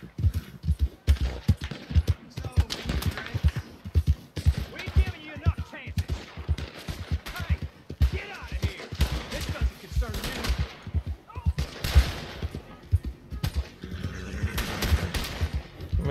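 A gunfire shootout in the video game Red Dead Redemption 2: a dense, continuous barrage of rapid shots runs for the whole stretch, at a steady mid distance, with no voices over it.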